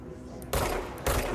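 Gunfire in a video game, two dense bursts of rapid automatic shots, loud and close, over a low rumbling background.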